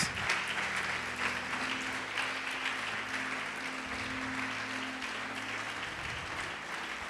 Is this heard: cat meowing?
no